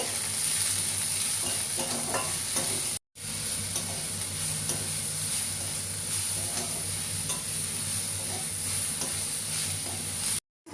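Steady sizzling of salted onions frying in a pan for a puti fish curry, a continuous close hiss with occasional stirring scrapes, broken by two brief silent gaps.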